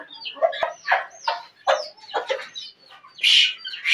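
Backyard chickens clucking near hens and chicks being fed grain, a string of short close squawking clucks in uneven bursts, ending with a louder higher call.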